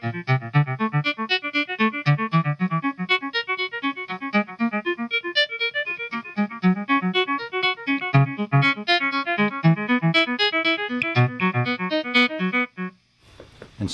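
Electric guitar plays a piece at full tempo through delay, fast hammered notes blurring into a swelling, organ-like cascade of repeats that runs continuously before stopping abruptly.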